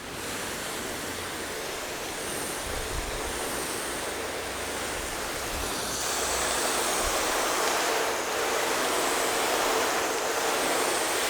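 Running water in a car wash hall, a loud continuous rushing spray that swells slightly louder partway through, steady and close with no talk.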